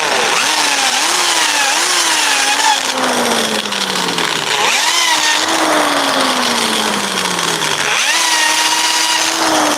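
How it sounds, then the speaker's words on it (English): A power drill drilling into a light switch, heard as loud, close motor whines that rise in pitch, then sag slowly under load, repeated in three long runs with no talking. "Do a little more drilling on this thing."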